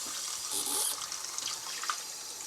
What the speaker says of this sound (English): I just like to run them under water, 2 by 2 leaves, to make sure that I'm washing off any insects or any dirt